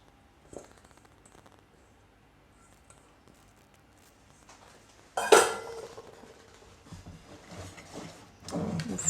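A whisk works egg whites into pistachio batter for mini pistachio-raspberry financiers, starting with faint scattered clinks, then a sharp clatter midway followed by louder, busier scraping and tapping against the bowl.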